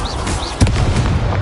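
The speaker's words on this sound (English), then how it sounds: "Incendio." A fire spell cast in the video game Hogwarts Legacy, a short whooshing burst with a low boom at its onset over steady game ambience, standing alone with no talk.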